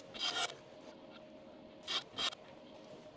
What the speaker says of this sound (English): These slide into the end of the track and have a little sprung bearing on it